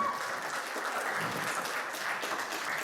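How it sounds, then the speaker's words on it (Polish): Audience applause at a singing festival in Andrychów after a song performance, a dense, uniform wash of clapping from a sizeable crowd held at a steady level, with no voices above it. "Cóż za brawa, poproszę jeszcze bardziej, jeszcze bardziej."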